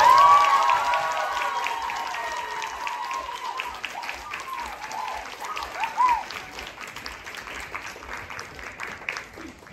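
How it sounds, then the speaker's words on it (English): An audience claps and cheers for a university a cappella group at a Christmas show, loud applause at first that gradually thins and tapers off, with scattered whoops over the clapping. "So again, huge round of applause for FCS,"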